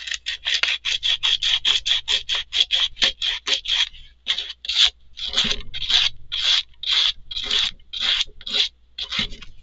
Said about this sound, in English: let's get a little sanding going on the back here